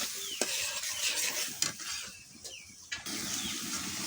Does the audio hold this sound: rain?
no